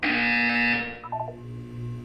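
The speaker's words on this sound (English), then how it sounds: "When you hear the buzzer, look up at the ceiling." A sustained electronic buzzer tone from the Portal 2 video game sounds loud and alone, then steps down into a lower tone that fades.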